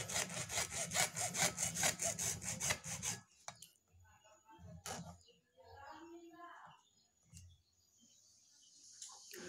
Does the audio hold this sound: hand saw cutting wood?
yes